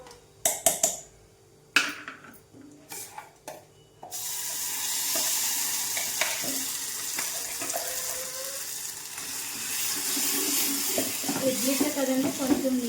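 Tomato chutney ingredients for idli fry in a pan, a steady close sizzle that fills the second part after a few sharp clatters and knocks at the start.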